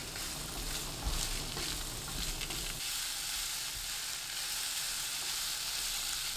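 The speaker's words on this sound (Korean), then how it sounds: "팬에 올리브유 한 큰술, 햄, 파 넣고 센 불로 2분 볶아주세요" Ham and green onion stir-frying over high heat in olive oil, a dense, even sizzle close by with a few soft stirring sounds early on and no talking.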